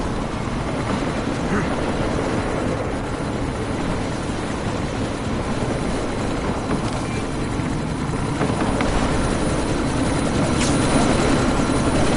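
Helicopter in Deus Ex: Mankind Divided, a steady loud rotor and engine drone with a sandstorm, constant throughout, with faint game voices in the background.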